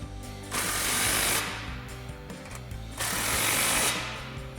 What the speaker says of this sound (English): So once you get them adjusted properly where you want, tighten them down.